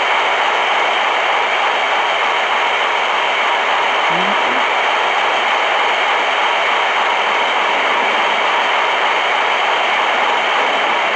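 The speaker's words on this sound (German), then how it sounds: "diese Waggons hier bringen wir jetzt nach Dannenburg." Train wagons rolling in the Trainz Simulator video game, a loud, steady broadband rumble of the moving railcars that holds without pause and has no voices over it.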